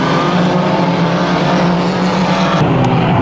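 Unlimited banger racing cars at King's Lynn roar loudly and continuously at close range, with a dense engine and tyre wash and a brief shift near the end.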